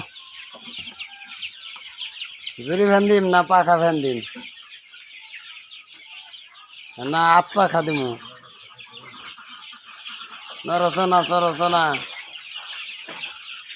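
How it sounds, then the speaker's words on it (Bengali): Farm chickens cluck in three loud, drawn-out bursts of rapid calls at close range, while a person talks quietly to them in between on a hot day. "আজকে মুরগি বেশি লড়াচড়াও করে না"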